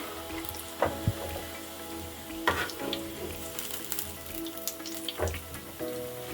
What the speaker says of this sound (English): our onions have turned golden brown, so we're going to remove them from the oil